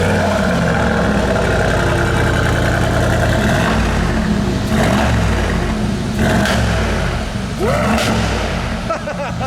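A sports car engine with its exhaust switched to the loud mode revs hard and holds a high drone around 3,000 RPM while still cold, loud and close, with rising and falling pitch sweeps and a voice speaking faintly beneath it.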